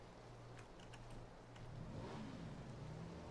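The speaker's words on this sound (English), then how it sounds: "I hear a car outside." A car engine in PlayerUnknown's Battlegrounds rumbles steadily outside at moderate distance, swelling slightly louder toward the end as it nears, with no talk over it.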